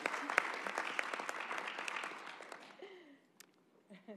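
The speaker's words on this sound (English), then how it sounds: "please join me in giving them a round of applause for being here with us today" Audience applause at an African Union and European Union side event on the gender digital divide, a dense round of clapping that fades out, with a voice starting to speak near the end.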